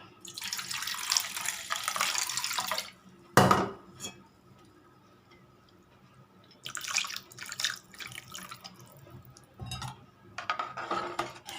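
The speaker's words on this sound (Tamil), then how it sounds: "இப்போ இது கூட தண்ணி சேர்த்துக்கலாம்." Water pours into a pot of thayir vadai kulambu (vadai curry in buttermilk) during cooking, coming in several splashy bursts with a sharp clink between them and quiet kitchen pauses in between.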